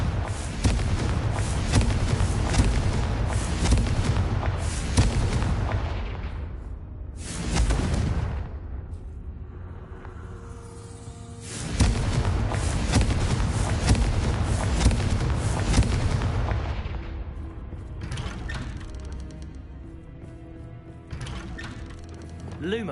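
Repeated fiery spell blasts from Confringo in Hogwarts Legacy on PS5, loud booming bursts in two long dense barrages separated by a quieter rumbling lull, with faint background game noise.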